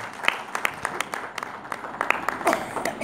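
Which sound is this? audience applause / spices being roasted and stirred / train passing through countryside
audience applause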